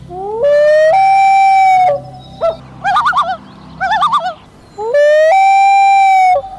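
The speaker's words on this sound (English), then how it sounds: "There's a loon. A loon." Loud, close common loon calls: long rising wailing notes at start and end, with quavering tremolo calls in between, no talking.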